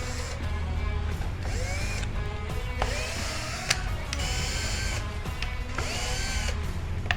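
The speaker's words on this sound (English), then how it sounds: "You want to take a screwdriver or your drill" A power drill backing Phillips head screws out of a car radio mount, a steady close whine with rising and falling pitch sweeps as the screws turn, plus clicks and rattles, unbroken for several seconds with no talk.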